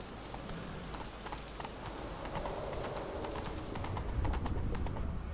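Horse hooves clip-clopping in a video game, a rhythmic series of hoof knocks over a soft ambient backdrop, growing a little louder toward the end.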